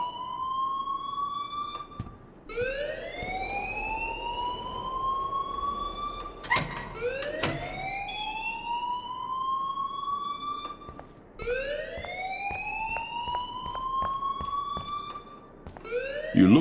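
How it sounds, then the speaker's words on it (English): A fire alarm in the Life is Strange video game wails in repeated rising siren sweeps, each one climbing and holding, with brief clanks in between and no talk. "please turn off that alarm since that's your job"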